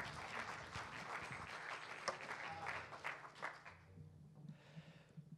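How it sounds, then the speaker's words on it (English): Church congregation applauding the worship team after a prayer, a moderate burst of clapping that fades out over the last couple of seconds, with some voices mixed in. "If you want to give them a round of applause."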